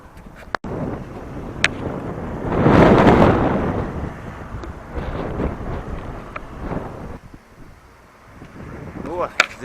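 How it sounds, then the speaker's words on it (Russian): Gusting wind roars across a microphone while cycling on a road in the rain, swelling loud for a few seconds before easing into steadier rushing buffeting with scattered faint knocks. "И дождь, и ветер."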